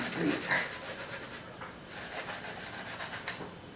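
Soft, close rubbing with a finger on paper in slow strokes, faint and dry, with a quiet breath near the start.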